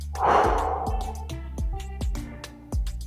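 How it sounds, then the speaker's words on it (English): A slow deep breath drawn in with an audible gasp-like inhale, then released as a soft sighing exhale, close and quiet, during a gentle home workout cool-down. "Deep breath in and breathe out."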